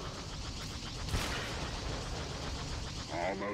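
Space fleet battle in Star Wars: The Old Republic, with steady dense gunfire and blasts forming a continuous wash, a sharp burst near the start, and a voice speaking over the din.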